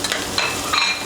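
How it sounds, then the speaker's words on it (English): Garlic sautes in a pan with a light sizzle while a spoon stirs and scrapes, short clinks and scrapes rising over the frying hiss. "saute the garlic"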